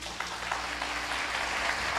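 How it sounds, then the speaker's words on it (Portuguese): A church congregation applauds during a sermon, a steady, dense wash of clapping that holds even and fairly full for the whole stretch. "como Deus ia amar uma salva de palmas agora a Ele"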